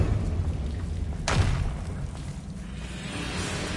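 A single deep boom of the Confringo fire spell explosion in the Hogwarts Legacy video game bursts over a low ambient rumble, then fades away.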